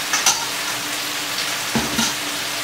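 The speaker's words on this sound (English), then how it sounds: "I'm using 3 things of tuna right here, and I'm just gonna fry them up" Canned tuna frying in a pan with chunky vegetables, a loud close hiss and sizzle with a couple of sharp stirring scrapes against the pan, no talking.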